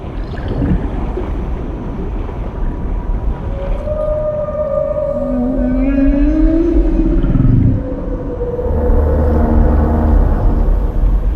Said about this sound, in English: I was distracted by the gigantic whale.